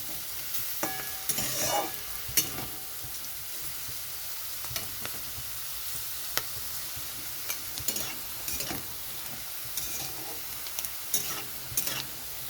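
Potatoes, beans and carrots fry in a pan for vegetarian sabudana khichdi, a continuous sizzle broken by repeated scraping stirs of a spatula against the metal, close and unaccompanied by talk.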